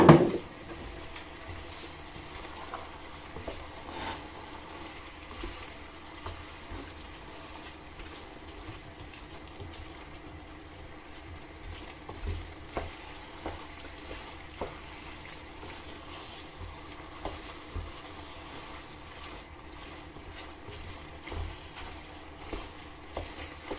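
Mushrooms with marjoram cook quietly in a pan, a soft steady sizzle with occasional faint stirring taps and scrapes throughout.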